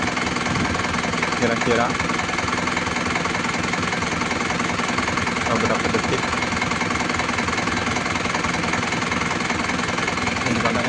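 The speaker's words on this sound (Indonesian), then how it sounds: "Ini kunci kontak saya matiin. Nah, mesinnya masih hidup." A 2002 Isuzu Panther engine keeps idling after the key is switched off, held running by a turbo timer. The steady, even rumble continues throughout beneath a man's nearby speech.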